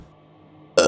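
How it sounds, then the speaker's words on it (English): Short burp sound effect in the horror game Layers of Fear, one abrupt loud belch at the very end after a near-silent, faintly humming stretch. "There's a little pussy burp again."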